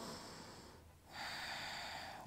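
Steady, close breathing during a power yoga pose: a long airy exhale that fades into a short pause, then a fuller inhale, with no talk.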